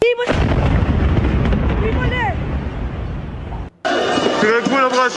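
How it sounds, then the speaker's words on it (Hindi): A loud, sustained roaring blast with rumbling low end from an Iranian missile strike at a hospital in Israel, briefly cutting out, then resuming with chaotic noise and faint voices. "कुछ देर पहले आपने धमाके की आवाज सुनी"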